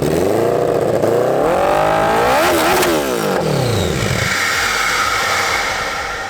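A turbocharged Honda CBR 1000 motorcycle engine revs hard nearby, pitch sweeping up and down through loud throttle blips before settling to a rough idle with a rising hiss.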